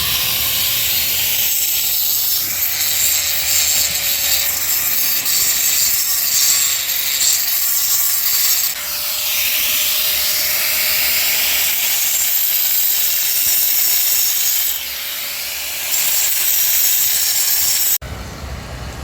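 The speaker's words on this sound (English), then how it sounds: "I got my little cross hatches cut in here with my grinder" Handheld grinder cutting cross-hatch grooves into a concrete skateboard curb, a steady high whine and gritty hiss running close and loud for about eighteen seconds before cutting off.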